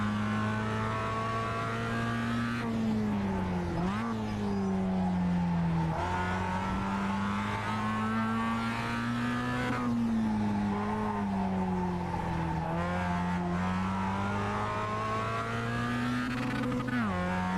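Engine of a Mazda MX-5 race car in iRacing on Okayama International's short course, a steady loud drone that rises and dips with gear shifts and corner braking, with faint tire scrub and no pauses.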